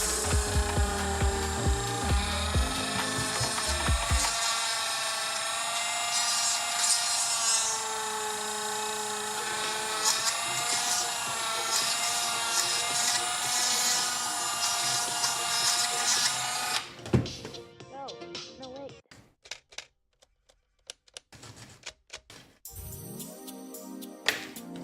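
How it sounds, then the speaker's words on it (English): A Dremel rotary tool hollows out a plastic model part with a steady high-pitched whine and grinding, loud and close, for about seventeen seconds, then cuts off, followed by scattered handling noises. "trusty Dremel to the rescue"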